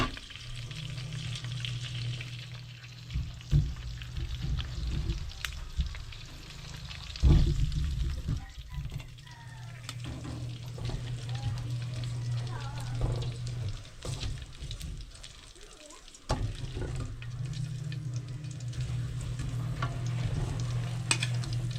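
Steady sizzling and crackling of pork frying in its own rendered fat continues throughout, with occasional stirring and scraping noises close up.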